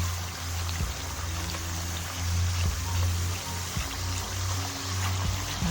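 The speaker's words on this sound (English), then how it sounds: "I have to keep stirring now." Homemade Jamaican coconut oil bubbling in a pot while being stirred, a low steady simmering hiss with soft liquid swirls and faint knocks of the spoon, close and continuous.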